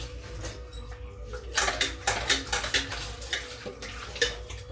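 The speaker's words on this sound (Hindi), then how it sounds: "तो चलो जी अब बर्तन धुल जाएंगे, फिर करेंगे आराम" Dishes, pots and utensils being washed by hand in a home kitchen, with a steady run of clattering metal and clinking cutlery over a low hum, close and fairly loud.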